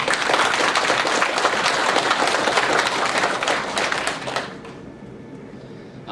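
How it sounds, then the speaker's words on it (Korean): A Korean church congregation bursts into a big, dense round of applause during a worship service, the clapping holding strong before tapering off into quiet room tone. "우리 하나님께 영광의 큰 박수 올려드리고"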